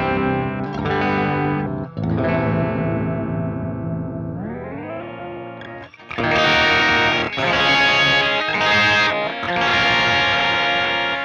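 Guitar chords played through the clean amp of the Neural DSP Archetype Petrucci plugin with chorus and echo, ringing chords with pitch slides and brighter bursts later, alone and close.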